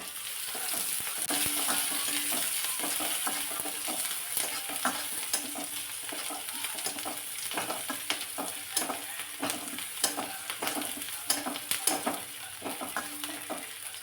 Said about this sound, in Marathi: त्यानंतर आता एक प्लेटभर चिरलेला कांदा घालायचा